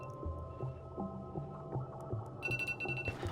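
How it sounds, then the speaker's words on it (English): A faint, steady electronic alarm beeps in a repeating low pulsing pattern, with a brighter tone joining near the end. "Okay, alarm, shut up."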